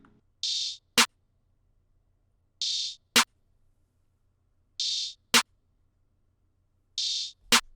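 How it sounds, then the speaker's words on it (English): A soft, muffled open hi-hat hisses briefly four times, each followed by a sharp percussive hit, spaced evenly with silence and a faint low hum between. "there is a muffled open hat that's going to sound like this"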